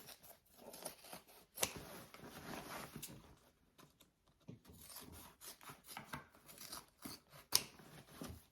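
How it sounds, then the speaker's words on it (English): Scissors trim fabric seam allowances at the corners of a handbag, making a series of quiet, crisp snips and blade clicks at irregular intervals, close up, with faint rustling between cuts. "And trim up the seam allowances on those corners too."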